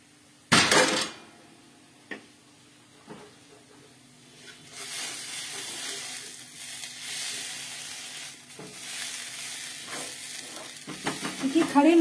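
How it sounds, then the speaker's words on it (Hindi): Peas roasting in a pan with whole spices give a soft, steady sizzle, with a few sharp utensil clinks and scrapes of stirring against the pan, then busier scraping toward the end. "ऑलमोस्ट हमारा ये मटर जो है ये भुनकर तैयार हो गया है।"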